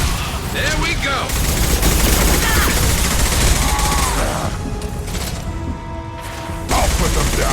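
Rapid bursts of gunfire in the sci-fi shooter game Mass Effect Legendary Edition, loud overlapping volleys with mechanical clicks and short tonal beeps, and voices occasionally beneath the shooting.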